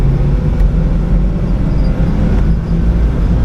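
Interior of a car driving on a road, steady loud low rumble of engine and tire road noise as the throttle is applied, continuous with no talking.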